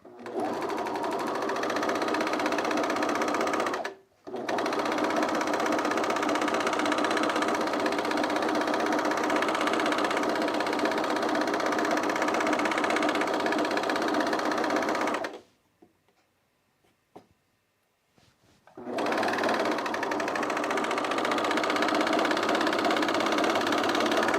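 An overlocker stitches Mitchell trousers in long continuous runs, a loud close mechanical whir that stops briefly once early on, then pauses for several seconds with small clicks before starting again.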